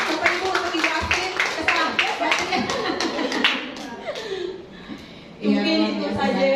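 An audience at an MCI business testimonial event gives a round of applause, the dense clapping mixed with laughter and chatter, then fading as a voice speaks over the end.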